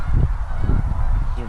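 Canada geese honk near and loud during a goose hunt, a cluster of overlapping nasal calls that fills the short moment.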